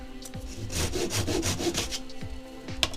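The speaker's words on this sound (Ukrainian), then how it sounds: "Перша дія знову у нас торцювання" Handsaw end-cutting a pine strip for kumiko lattice woodwork, a steady series of close, rasping back-and-forth strokes lasting about three seconds with no talk.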